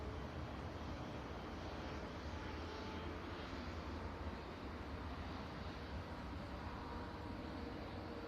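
A Ryanair airliner arriving from Dublin lands at Manchester Airport, its engines giving a steady, broad roar that holds at an even level throughout with no talk over it.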